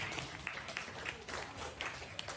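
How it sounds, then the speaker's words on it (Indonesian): A small group of students in a classroom claps hands for a few seconds after a teacher's praise, a faint, scattered patter with no steady rhythm. "Tepuk tangan."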